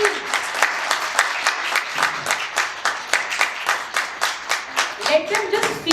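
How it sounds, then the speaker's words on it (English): An audience at a kids' talent hunt and public speaking event claps in a loose rhythmic beat, with distinct hand claps repeating for six seconds and a voice faintly emerging near the end. "can we have a smile and huge round of applause again for the kids who are performing today"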